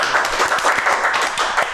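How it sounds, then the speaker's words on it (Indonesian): A small group of people applauding at a talk-show recording, quick uneven hand claps close by for a short burst. "Ya tepuk tangan kita aminkan."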